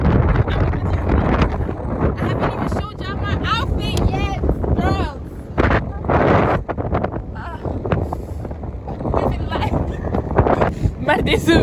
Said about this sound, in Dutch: Maar deze wind aan de zee.